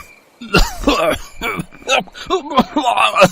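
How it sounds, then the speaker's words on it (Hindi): Harsh, repeated coughing bursts break out in quick succession, close and loud, as people choke on chilli fumes inside a house in a horror story. "ये किसके खांसने की आवाज आ रही है?"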